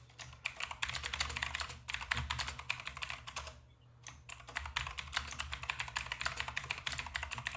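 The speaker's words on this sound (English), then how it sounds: "What you typing on, Dina?" Rapid, continuous clatter of fingers on a computer keyboard, close and steady, with one brief pause before the typing resumes at the same brisk pace over a low background hum.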